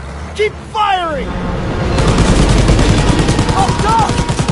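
Rapid automatic gunfire in a World War 2 video game battle on a train, dense loud rattling bursts building after shouted voices, with voices heard calling out at the start.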